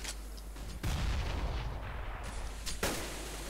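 Gunfire in a Counter-Strike match on de_dust2, two heavy booming shots a couple of seconds apart over dense game background noise, loud and without voices.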